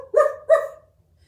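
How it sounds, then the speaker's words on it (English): Two short dog barks in quick succession, close and fairly loud, followed by silence. "He barked at the birds."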